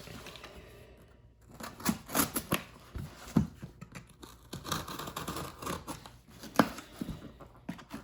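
Scissors snip and crinkle through the packaging of a shipped Horizon reversible PEM fuel cell, a run of close, crisp cuts and rustles with brief quiet speech.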